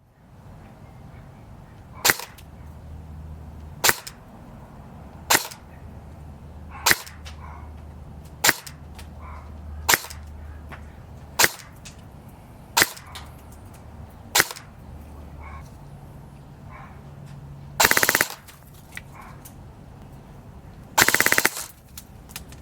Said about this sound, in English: So let's take it out, shoot it, and see how it does at the chrono.